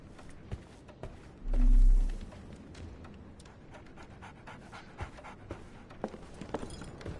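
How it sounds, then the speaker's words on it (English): A dog pants in quick, steady breaths, fairly close and quiet, with a short low swell of noise partway through and a few soft thumps in the background. "So, Barnes has a dog now."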